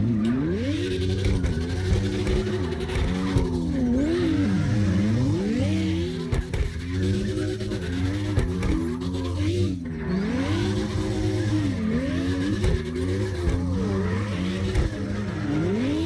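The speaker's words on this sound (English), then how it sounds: "Daredevil bringing out the Lexus LFA." Lexus LFA in CarX Drift Racing Online, its engine revving up and down in continuous rising and falling sweeps while the tires squeal and skid through drifts, loud and steady throughout.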